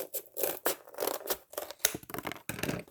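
Scissors cutting paper Christmas sled templates, a close series of quick crisp snips and slicing strokes in an uneven rhythm with no speech.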